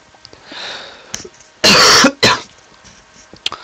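Two loud, harsh coughs in quick succession, close up, with a quieter throat sound and faint rustling around them.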